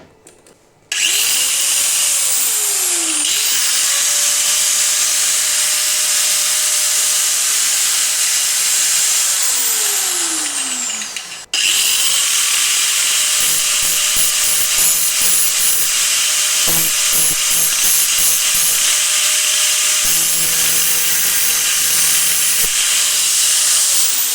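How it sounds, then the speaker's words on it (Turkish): An angle grinder powered by a quiet hybrid generator spins up to a loud, steady high-pitched whine. Its pitch sweeps up and down as it winds down, restarts and runs on close by. "Şimdi onu çalıştıracağım. Gördüğünüz gibi spiral makinesi."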